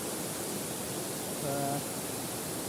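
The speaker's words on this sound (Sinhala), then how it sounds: "අතරින් පල්ලෙහා තමයි ඇල්ල පල්ලෙහාට ගලන්නේ" The waterfall at Kalabokka flows in a steady, unbroken roar that fills the whole scene, with a brief faint voice in the middle.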